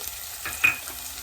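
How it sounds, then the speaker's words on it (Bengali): Onions browning in a pan with chopped green chillies and grated ginger, a quiet sizzle with one brief scrape of a spatula in the middle. "এগুলোকে আমি ভালোভাবে ব্রাউন করে ভেজে নেব।"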